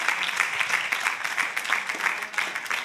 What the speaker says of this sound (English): Come on, clap your hand.